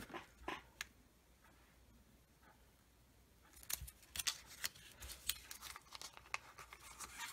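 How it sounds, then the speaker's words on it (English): Scissors cutting paper for a scrapbook page, first a few isolated quiet snips, then a quicker run of crisp closely spaced cuts, faint and close with no talking. "I'm thinking I'm going to cut this here"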